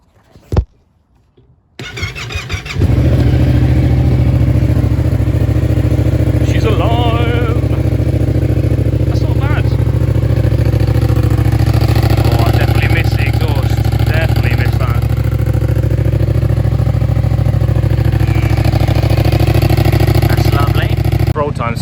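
After a brief click and a short pause, a Yamaha MT-07 motorcycle engine cranks and catches, then settles into a loud, steady rumbling idle with occasional revs. A person talks over it.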